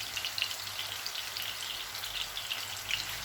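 Keema kebabs frying in a pan over a medium flame: a steady, close crackling sizzle with small oil pops scattered throughout, no voices.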